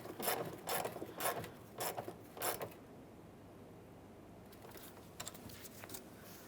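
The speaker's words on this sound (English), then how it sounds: "go ahead and tighten your clamp" A clamp on a Chevrolet Trailblazer fuel tank is tightened with a ratcheting tool, giving a quick series of close, sharp clicking bursts, then a pause of quiet before a few lighter clicks.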